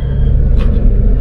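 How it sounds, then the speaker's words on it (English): A truck engine idles loud and close after a battery replacement, a deep steady rumble with a brief hiss partway through. "I had to get another battery for this truck, man. It's sounding pretty slick."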